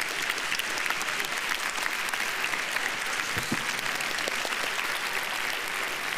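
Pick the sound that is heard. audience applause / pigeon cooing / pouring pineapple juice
audience applause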